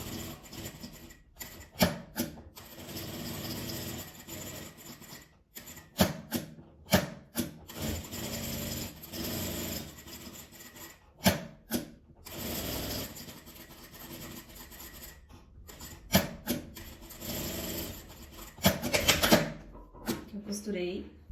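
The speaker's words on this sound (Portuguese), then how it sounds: "Vou passar a costura em volta e deixar uma pequena abertura assim para desvirar." A sewing machine stitches a seam around fabric pieces for a patchwork butterfly, with repeated bursts of rapid mechanical clatter starting and stopping over about twenty seconds, close and moderately loud.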